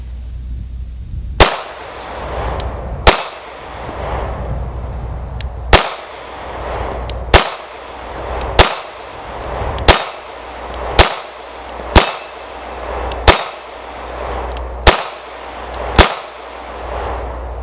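A SAR Arms B6P compact 9mm pistol fired at a shooting range: about a dozen sharp, loud, ringing shots spaced roughly one to one and a half seconds apart, each standing alone with no talking.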